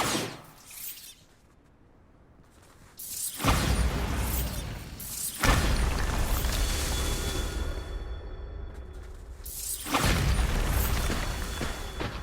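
Bombarda spell blasts in Hogwarts Legacy, loud booming bursts with crashing debris that arrive in a few separate surges, each sustained for a couple of seconds before falling back to a quieter rumble.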